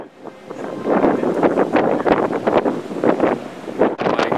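A strong gust of wind on a street in Brooklyn Heights, roaring and buffeting the microphone in loud, uneven surges that swell and drop for several seconds, with no voices heard.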